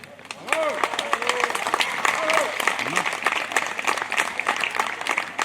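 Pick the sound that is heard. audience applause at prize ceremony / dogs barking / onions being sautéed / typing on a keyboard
audience applause at prize ceremony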